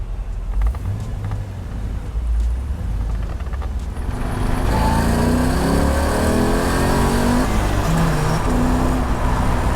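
A 1967 Pro Touring Corvette with an LS3 V8 and Tremec manual gearbox rumbles past outdoors, a loud, steady engine roar that swells and climbs through several rising rev sweeps.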